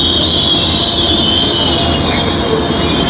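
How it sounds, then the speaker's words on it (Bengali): Chinese high-speed bullet train running, a steady loud rumble with a high metallic whine and wheel hiss, continuous and close from inside the moving carriage, with no voices. "এই প্রথম আমার অভিজ্ঞতা বুলেট ট্রেনের"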